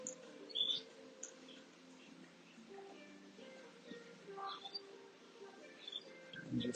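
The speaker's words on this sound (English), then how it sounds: "enjoy the sounds of the birds chirping" Small birds chirp and tweet in short, scattered calls, faint and distant, over a quiet outdoor background.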